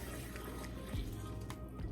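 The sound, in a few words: dirty sponge water poured down sink drain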